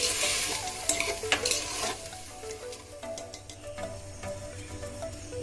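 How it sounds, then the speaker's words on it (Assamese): Rice pulao being stirred in a pan over a low flame, a spoon scraping steadily with soft, continuous sizzling and frying close by, no talk. "ল' ফ্লেমত ৰাখি মই অলপ লৰাই ভালদৰে"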